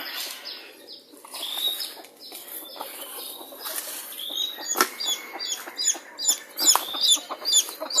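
Chickens cluck and squawk repeatedly at a farm pond, with busy overlapping calls, a burst of wing flapping midway and other birds chirping faintly behind.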